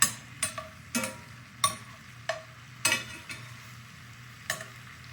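Shrimp sizzle in a skillet for scampi. A soft steady fry runs under a series of spaced, sharp clacks as the pieces are flipped one by one, with no voices.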